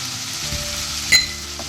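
Garlic, ginger, green chili and curry leaves fry in a pan for a mango curry, giving a steady close sizzle and one brief metallic stir clank, no speech.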